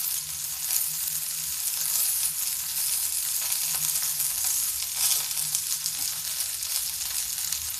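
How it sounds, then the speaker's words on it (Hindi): Okra sizzles steadily on a tawa griddle over a low gas flame, a continuous close frying hiss with faint crackle throughout and no talking. "ये देखिए सारी भिंडियाँ ऐसे मैं डाल दूँगी।"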